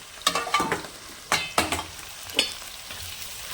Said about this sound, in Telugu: నెక్స్ట్ వచ్చేసి ఉల్లిపాయలు వేసేస్తానండి.